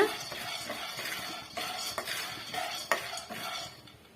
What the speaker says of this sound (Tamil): வேர்க்கடலே சேர்த்துக்கிறேன் இது கோல்டன் கலர் வர வரைக்கும் நம்ம வறுத்து எடுத்துக்கலாம்